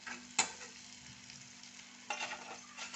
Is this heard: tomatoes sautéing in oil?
yes